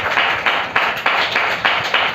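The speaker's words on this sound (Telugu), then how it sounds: "చప్పట్లు కొట్టండి గట్టిగా" A church congregation claps loudly in a steady, rhythmic beat at a Good Friday service, with each burst of hand claps coming close and full and no voices above them.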